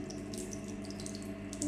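Steady, faint cold water running from a tap fed by rainwater harvesting, a constant hiss with a low hum underneath.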